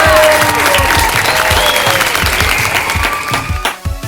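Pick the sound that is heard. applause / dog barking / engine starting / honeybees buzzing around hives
applause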